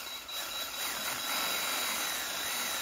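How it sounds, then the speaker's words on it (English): Drill boring through a pilot hole in the wall of a metal On-Stage or Proaim Vanguard utility cart, a loud steady high-pitched whine that holds for about three seconds at close range. "So the tip of this drill, you should be able to find the pilot hole."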